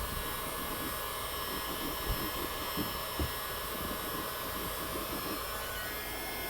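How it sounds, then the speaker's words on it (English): A heat gun runs with a steady loud whooshing hum while heating a plastic rock guard to shape it to the fender arch of a Shelby GT350, a constant drone with faint low thumps underneath. "Now, we're going to take the heat gun again, because we want to form this plastic"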